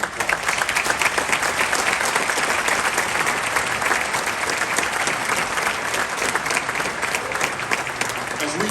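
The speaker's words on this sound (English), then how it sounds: "I honestly think we all should give Jim Durkin a round of applause" Loud, sustained applause from a large crowd at the inauguration of the Illinois House of Representatives, dense clapping that continues without a break.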